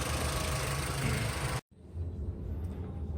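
A car engine idles in a steady low rumble, cut off abruptly by a brief gap, then resumes more faintly and evenly without anyone speaking.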